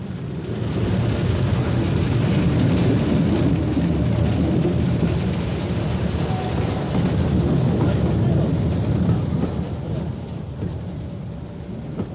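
A Sentinel Class Y1 steam locomotive runs flat out on a heritage railway, giving a loud, continuous, broad rumbling roar with a churning texture. The sound stays steady and close throughout, with no talk.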